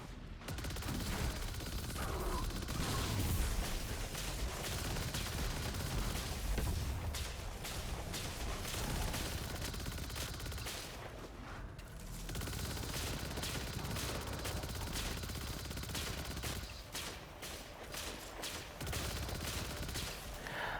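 Rapid volatile explosions in the video game Destiny 2 go off in a dense, continuous barrage of booms and crackling blasts, loud and sustained with no talking over them.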